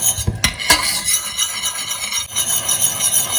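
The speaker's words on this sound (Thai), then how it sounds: "น้ำตาลเกลือ คนให้น้ำตาลกับเกลือละลายนะคะ" A utensil stirs sugar and salt into water in a pot, with a few sharp clinks near the start, then steady swishing and a faint sizzle underneath.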